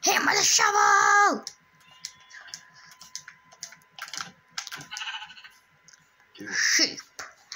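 A loud wavering sheep bleat opens, followed by a quieter mix of clicks and game sounds, then another short bleat near the end.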